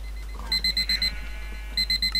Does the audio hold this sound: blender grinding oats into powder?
no